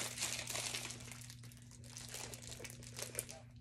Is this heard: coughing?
no